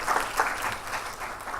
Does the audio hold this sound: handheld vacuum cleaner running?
no